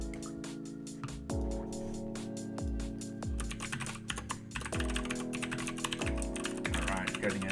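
Fast, steady clicking of fingers typing on a computer keyboard while coding, quiet and continuous over a constant low hum.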